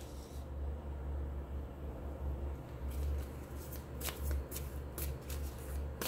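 Tarot cards being shuffled and drawn, heard as a steady dry rustle that gives way to a run of sharper riffling snaps near the end, close and alone over a low background hum.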